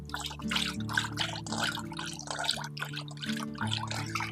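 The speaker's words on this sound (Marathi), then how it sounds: "हे आपण अशा पद्धतीनं घुसळून घेऊयात" Fresh curd whisked by hand with an equal cup of water for a curd pitla, giving rhythmic wet swishing strokes over steady background music.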